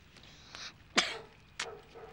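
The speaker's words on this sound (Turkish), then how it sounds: "Ama kötü öksürüyorsun" A person coughs and clears their throat in a few separate harsh bursts, close by and fairly loud, with quiet gaps between them and no talking.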